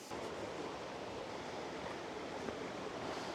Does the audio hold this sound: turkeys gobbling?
no